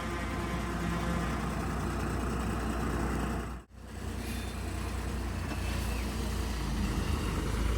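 A TNSTC bus engine idles with a steady low rumble and broadband drone, close and constant, briefly dropping out for a moment midway before resuming.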